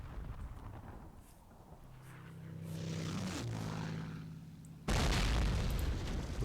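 A mortar explodes in the Myth II Soulblighter video game as a sudden heavy boom near the end. Before it comes a rising, droning whistle, then a loud, rumbling blast.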